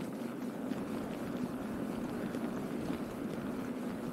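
Strong wind roars steadily against the microphone during a bicycle commute through heavy snow in Japan, a constant broadband rush with no speech.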